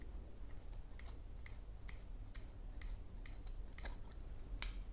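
Scissors snip a cord for jewellery in a series of quick, crisp close-up cuts, ending in one sharper final snip.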